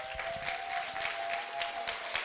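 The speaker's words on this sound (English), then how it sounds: "let's give a big applause to Anna" A conference audience claps in a short burst of moderate applause, a loose patter of hands heard from within the room.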